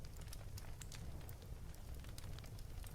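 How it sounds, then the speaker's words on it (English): A fireside setting with a crackling fire gives off steady, faint snaps and pops over a soft, continuous hiss, with no voices. "Enjoy the sound of the crackling fire"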